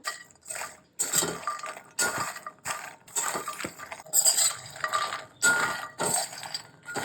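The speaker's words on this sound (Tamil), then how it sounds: "இந்த மக்கானாவை லோ ஃப்ளேமில் வச்சு லேசாக வறுத்து எடுத்துக்கிறணும்" Makhana fox nuts are dry-roasted over a low flame and stirred in a pan, making repeated bursts of light rattling and scraping clinks in a steady stirring rhythm, close and fairly quiet.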